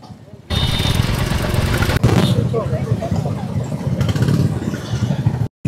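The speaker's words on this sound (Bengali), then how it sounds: "এই যে কয়েকটা বাইক আমরা আসছি" Several Royal Enfield motorcycles on a group ride-out in Bangladesh give a steady low engine drone as they pass, with someone talking over the rumble throughout.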